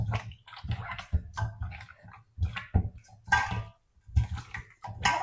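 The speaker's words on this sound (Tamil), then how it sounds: "கொஞ்சமாக தண்ணியில் கழுவி எடுத்துக்கணும், நிறைய தண்ணி ஊற்றக்கூடாது." Raw chicken pieces are rinsed by hand in a small amount of water in a home kitchen, giving a run of wet splashes and sloshes that come in bursts with brief pauses, close and clear, with no talk.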